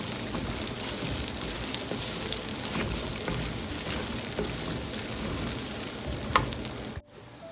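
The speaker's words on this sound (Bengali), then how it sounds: "মশলাটা একটু তেলের সাথে ফ্রাই করে নেব" Onion and whole spices fry in hot oil with a steady, dense sizzle and crackle throughout, then the sound briefly cuts off near the end.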